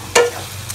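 Cooked rice mixed with salt, sugar and garam masala for Bengali fried rice is stirred in a pan, producing one brief, close scrape over a low steady background, with no talking.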